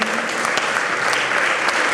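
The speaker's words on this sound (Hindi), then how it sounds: "अपने दोनों पैरों पर खड़े होकर जोरदार तालियों के साथ आमंत्रित करेंगे" Loud, steady applause from a standing audience welcoming the governor at the BMA Visionary Awards 2022, dense continuous clapping with a few sharper claps and faint voices beneath.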